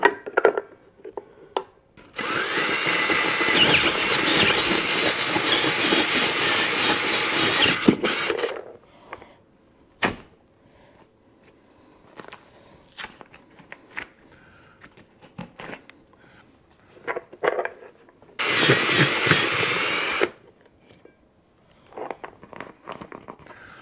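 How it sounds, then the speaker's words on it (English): A drill-driven hole saw grinds through a textured drywall ceiling in two loud sustained bursts, the first about six seconds long and the second shorter, with quieter scraping and handling knocks in between. "Use the hole saw once."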